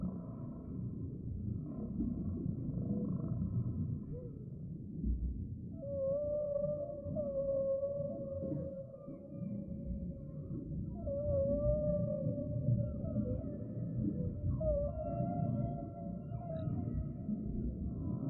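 Long, wavering whale calls drift over a low, steady rumble in a calm meditation setting, rising and falling tones repeating throughout with no voices.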